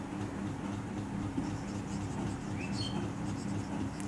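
Marker or chalk scratching on a board during a reinforced concrete beam engineering lecture, a steady continuous scrawl over low room hum, with no talk.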